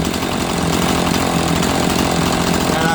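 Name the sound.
Rancher chainsaw idling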